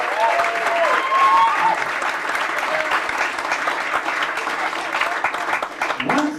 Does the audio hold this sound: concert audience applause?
yes